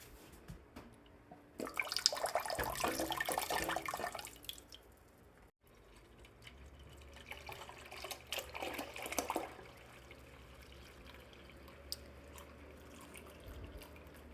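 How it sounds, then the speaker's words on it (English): Cold water pours into a pot for brewing kombucha, two splashing runs of several seconds each, close and fairly quiet, with a short pause between them. "then we're going to add the cold water"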